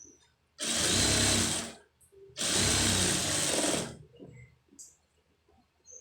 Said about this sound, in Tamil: இப்போ இதில் வந்து பிரிக்கிற தையல் போடணும், அதாவது ஓட்டு தையல்